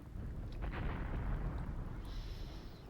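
Heavy artillery fire rumbles in the Graviteam Tactics war game during a Second Battle of Kharkov scenario, a dense, continuous low roar of booming impacts that stays loud throughout with no voices.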